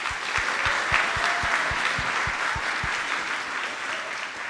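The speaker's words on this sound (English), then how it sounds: "One more round of applause for them, please." A school winter concert audience claps for a five-piece instrumental group, a sustained, even roar of many hands, while a low rhythmic thump ticks steadily beneath the applause.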